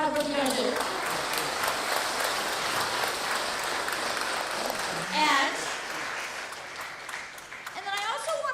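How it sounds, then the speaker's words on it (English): An audience at a FIRST Tech Challenge season kickoff event in Massachusetts breaks into sustained applause, a dense wash of clapping filling the room, with some voices and cheers mixed in near the end. "So let's give a round of applause for all your hard work"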